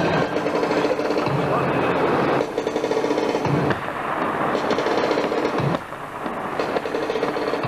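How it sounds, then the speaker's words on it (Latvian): Demolition charges bring down the Skrunda radar building, the blasts timed to a music beat: a dense stream of rapid booming bursts and rumbling collapse, heard in several loud segments, with a voice likely talking over it. "Holsters, viņš izvēlējies šos sprādzienus mūzikas ritmā"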